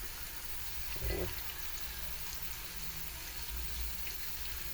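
Water pouring steadily from a tap into a pot for a fish soup broth made with long chilies and tomatoes, a continuous soft hiss with a slightly louder splash near the start.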